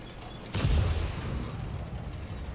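A tank gun in World of Tanks fires a single shell. It hits as one sharp, heavy boom with a low rumbling tail, then settles into quieter engine-like background noise.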